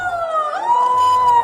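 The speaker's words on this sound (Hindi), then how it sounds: "जब मुख्यमंत्री शिवराज सिंह चौहान सायरन बजने पर रुक गए" Rising and falling electronic siren wailing in Bhopal as part of a COVID awareness drive, steady and loud throughout with a faint low rumble beneath.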